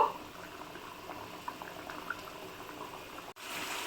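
Hilsa in mustard gravy simmers in a pot, a steady bubbling boil with soft pops running throughout at moderate level, briefly cut off near the end before resuming.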